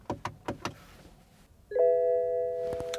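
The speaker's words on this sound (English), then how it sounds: "And that chime, as well as the visual in the dash, indicates that we're in diagnostic mode." A BMW dashboard chime sounds as the car enters diagnostic mode, a steady tonal ding held for over a second after a few soft clicks and knocks, close and clear inside the cabin.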